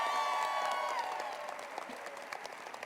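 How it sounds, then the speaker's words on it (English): Audience at a spring law school convocation applauds professors and staff: a dense, loud wash of clapping that starts full and gradually thins and softens toward the end. "could you give a round of applause for your professors and the staff that made all of this possible?"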